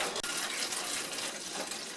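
Apple juice pours in a continuous, close splashing stream into a pan of BBQ ribs to steam and reheat them, with no talking.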